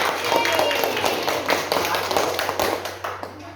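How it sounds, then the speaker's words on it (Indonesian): A class claps for a presenting group in a classroom, steady dense hand claps that fill the whole stretch and taper toward the end. "tepuk tangan kelompok 2."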